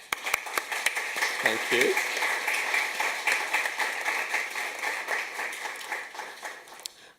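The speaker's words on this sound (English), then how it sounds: "I think they deserve a round of applause to be here" Audience at a human rights conference in Madrid applauding, steady crowd clapping throughout with a few sharp claps at the start and a brief spoken thanks over it.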